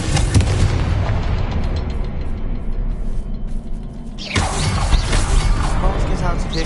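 Spell explosions from the Bombarda and Confringo spells in the Hogwarts Legacy video game, a continuous rumbling blast and debris wash followed by a sharp fresh burst partway through, loud and close.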